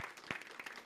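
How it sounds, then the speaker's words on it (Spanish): Audience applause for a participant at a Spanish-language talk or workshop, a quiet, dense patter of many hands clapping steadily for under a second, with a few sharper claps standing out. "Ya, un aplauso para Giselle"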